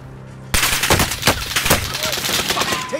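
Heavy automatic gunfire in the video game Warzone bursts in after a quiet half-second, dense overlapping shots close and loud, with a steady low hum underneath throughout.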